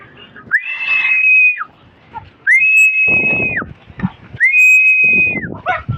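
Three long, steady high whistles calling pigeons, repeated at even intervals, loud and close, with scuffling and faint bird noise between them.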